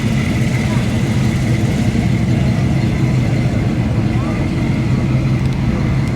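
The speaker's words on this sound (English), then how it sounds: "you get to hear the car, see them moving" Classic cars cruising past at an outdoor car show and cruise, with a steady, loud, low engine rumble that holds throughout and a faint voice in the background.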